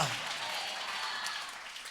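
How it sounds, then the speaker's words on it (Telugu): A church congregation claps in praise of God during a sermon, a dense, steady patter of many hands that continues evenly and fairly close throughout. "చప్పట్లు కొట్టి దేవుని మహిమ చెల్లించండి"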